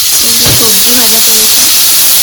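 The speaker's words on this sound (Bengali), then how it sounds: "এই যে সবজি ভাজা চলছে" Loud, continuous hiss and sizzle of vegetables frying in a pan with turmeric and salt close up, with a voice talking briefly underneath.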